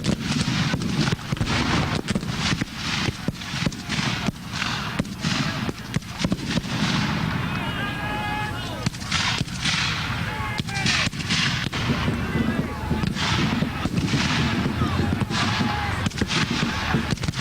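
Union cannon fire booms repeatedly, with sharp irregular blasts scattered throughout amid wind buffeting the microphone, and voices talk intermittently between the shots.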